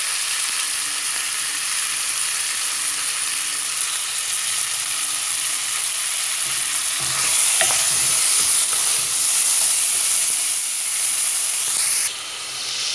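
Veal pieces hitting chopped onion in a hot pot for a veal and potato stew, giving a steady, fairly loud frying sizzle and hiss that swells midway, with occasional stirring scrapes and no talking.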